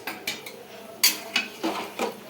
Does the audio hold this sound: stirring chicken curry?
yes